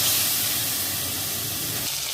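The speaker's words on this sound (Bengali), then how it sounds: "একে একে এই মাছগুলো আমি ভেজে নেব।" Fish fries in hot oil with a loud, steady hiss of spitting oil that stays constant for a couple of seconds.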